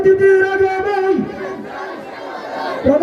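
A large crowd at a religious gathering chants loudly in unison, answering a takbir slogan with a forceful, drawn-out collective cry that dips and then swells again near the end.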